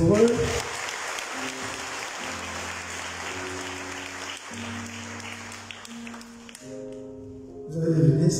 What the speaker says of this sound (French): On applaudit très fort pour eux.